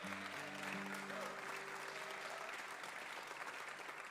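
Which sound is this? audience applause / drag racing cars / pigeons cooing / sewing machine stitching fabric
audience applause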